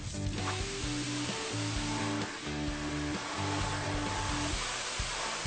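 A hair dryer blows steadily while hair is blow-dried with a brushing brush, giving a loud, continuous close-up whoosh with a slightly wavering hum and no voices.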